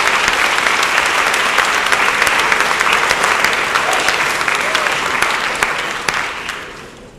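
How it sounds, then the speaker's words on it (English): An audience applauds a social science chair at a college Constitution Day event, a loud, even wash of many clapping hands that continues throughout and fades slightly at the end. "Let's give Chris a round of applause."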